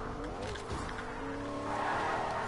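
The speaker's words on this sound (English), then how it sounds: "I hear a car." A car in a video game drives with a steady engine hum, its pitch rising slightly as it goes, with faint tire noise over a short stretch.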